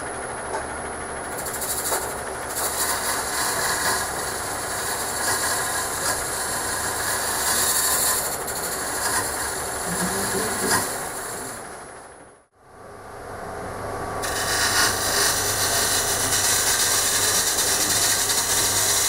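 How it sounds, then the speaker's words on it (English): A square scraper working wood on a lathe makes a loud, continuous rough scraping hum over the spinning machine. It cuts out briefly for a moment of near silence, then resumes, with no voices. "The best tool right here is actually go back to that square and scrape it."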